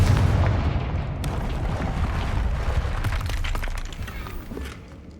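Confringo blast spell from Hogwarts Legacy, a dense rumbling burst of explosive fire with crackling debris that holds loud and steady, then trails off toward the end.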